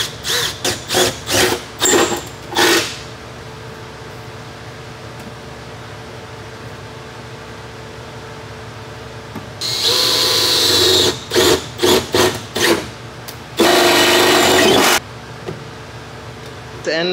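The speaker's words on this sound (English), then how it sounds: "So we're gonna drill this hole and we'll be using a rib nut" A power drill whirs in short on-off bursts, then runs in longer sustained stretches, loud and close, with quiet pauses between, drilling a hole for a rivet nut during a Toyota 3RZ engine swap.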